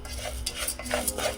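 Moong dal roasting in a pan over a medium flame, stirred with a utensil that scrapes and clinks against the metal in quick irregular strokes over a low hiss.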